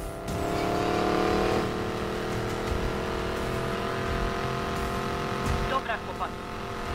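A car engine drones at full throttle in Need for Speed Payback (2017), a steady high-revving whine holding pitch, close and loud, with speech overlapping part of it.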